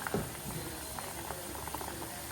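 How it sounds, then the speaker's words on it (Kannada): Oil heating in a pan with onion gives a steady, faint bubbling and sizzling hiss with small crackles throughout, close by and without talk. "ಇಲ್ಲಿ ನೋಡಿ, ಈ ಥರ ಫುಲ್ಲು ಬಾಯ್ಲ್ ಆಗಬೇಕು"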